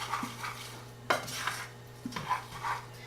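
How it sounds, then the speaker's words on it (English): Macaroni and cheese is stirred in a pot with milk, producing soft wet scraping and a few distinct clinks of the utensil against the pot, quiet and close with no voices. "And then I stir it."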